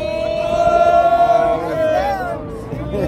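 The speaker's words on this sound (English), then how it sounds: "Nothing like a street ball crowd" Rowdy crowd at a street ball baseball game yelling and cheering, with loud sustained shouts rising over a babble of voices, close and energetic.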